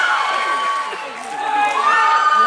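A concert crowd cheers and shouts continuously at an Impresario 2012 show as a pop singer is introduced, a dense, loud wash of voices and whoops that dips briefly midway and then swells again.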